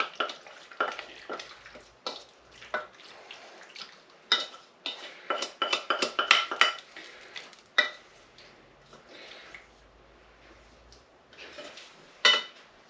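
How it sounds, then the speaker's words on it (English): Roasted vegetables tipped and scraped into a baking dish for a veggie and ricotta pasta bake, a run of close clattering knocks and scrapes of utensil on dish, busier in the middle and sparse toward the end. "We're going to throw this all into here."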